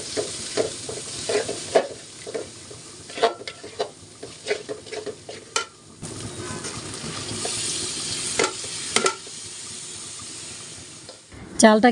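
Rice with a few whole green chilies frying for khichuri, with a steady sizzle and hiss and repeated scraping stirs of a spoon against the pot throughout.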